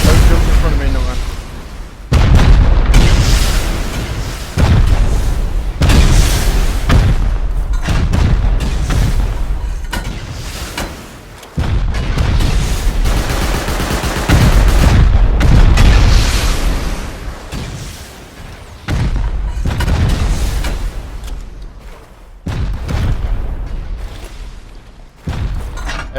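Rocket explosions and gunfire boom almost continuously during a large Rust Console Edition base raid, dense, loud and chaotic, with players talking over the blasts throughout.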